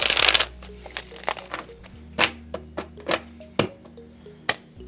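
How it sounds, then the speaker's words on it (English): Tarot cards being shuffled and cut by hand: a dense riffle burst at the start, then a series of crisp, separate card slaps and flicks at irregular intervals, close and clear with no talk. "One more shuffle."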